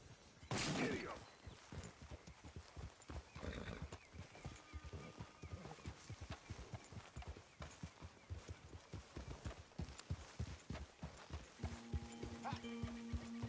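Horse hooves galloping in Red Dead Redemption 2, a fast steady rhythmic clatter throughout, preceded by a loud burst near the start and with faint tones near the end.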